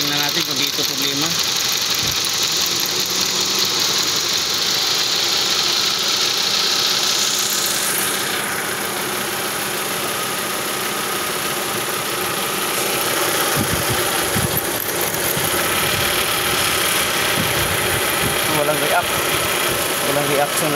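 A second-generation Toyota Vios idles roughly with its oxygen sensor unplugged. The engine misfires and runs unevenly, with a steady loud hum and vibration close by throughout.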